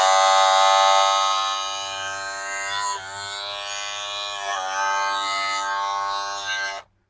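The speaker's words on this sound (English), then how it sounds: "This is your clipper to drown somebody out." A loud, buzzing cordless electric hair clipper runs steadily for several seconds, its motor pitch wavering slightly before cutting off abruptly.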